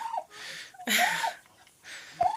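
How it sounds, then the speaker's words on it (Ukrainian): Several short, throaty rooster calls sound close by in quick succession on a village farm, separated by brief quiet gaps. "Дивіться, як чатує півні."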